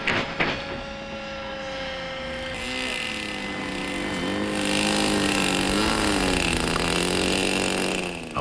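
A small two-stroke model aircraft engine screams at a high, buzzing pitch that rises and dips as it revs, loud and continuous, with a brief knock at the start.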